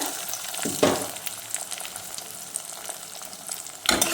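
One egg beaten with a little salt hits hot oil and fries for an egg tadka, a steady close sizzle with a sharp burst as it goes in and another crackling surge near the end.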